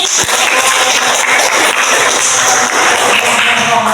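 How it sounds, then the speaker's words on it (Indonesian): Audience applause in a classroom or seminar setting: dense, continuous clapping from many hands, loud and steady throughout without talk. "Coba tepuk tangan sekali lagi"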